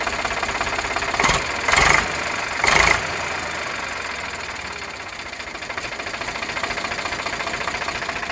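An Eicher 485 tractor engine idles with a steady mid-pitched diesel knock and rumble, close by, broken early on by a few short loud bursts before settling into an even drone.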